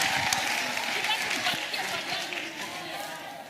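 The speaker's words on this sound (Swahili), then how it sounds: "Tumpigie makofi yake tafadhali." An audience at a domestic workers' day gathering claps in a dense, sustained burst of applause that fades slightly toward the end, mixed with crowd noise and voices.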